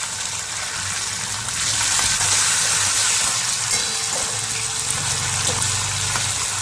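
Green chilli slices, coriander and curry leaves sizzle loudly in a hot pan of oil, a dense continuous crackling hiss that swells after a couple of seconds and stays close.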